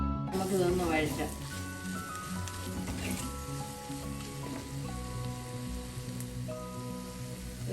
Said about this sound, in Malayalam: നമുക്കിതൊന്ന് വഴറ്റാം.